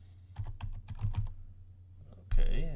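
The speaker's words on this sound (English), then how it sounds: "I'm just going to start typing here." Keyboard typing with a run of quick, irregular keystrokes, fairly close and clear, ending in a louder clatter that could be a final key hit or the keyboard being moved.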